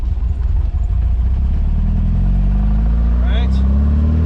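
A Porsche 914 engine runs with a loud, low, steady drone close by, rising slightly in pitch over a few seconds, while a person talks over it.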